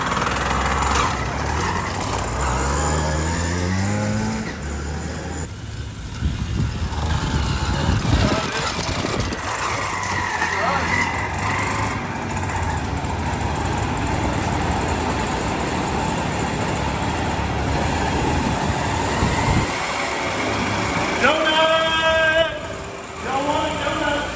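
A KD80X dirt bike engine running on straight gas with a clutch needing work, revved loudly and continuously indoors in a shop while doing donuts, with rising and falling pitch and voices talking over it.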